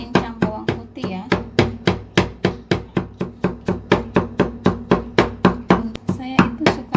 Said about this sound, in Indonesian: ini aku cincang bawang putih ya